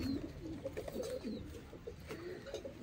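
Pigeons cooing softly in a loft, a few low rolling coos repeating in a faint, close setting with no talk.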